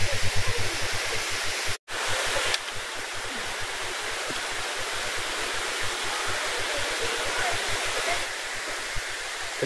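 A river rushes beside a waterfall on a trail-run route, a loud, steady broadband roar of water close by, briefly cut once near the start and otherwise continuous.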